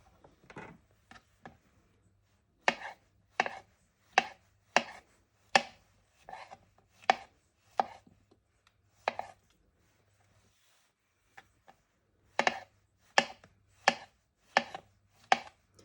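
A kitchen knife chops mushrooms on a cutting board for savoury rice, with sharp, close, rhythmic cuts coming in quick bursts and a brief pause midway.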